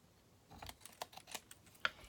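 Long scissors snip the sides off paper-crafting packaging, a few quiet, irregular crisp cuts close by with no talking.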